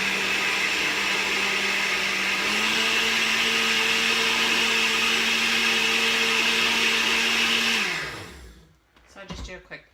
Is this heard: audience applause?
no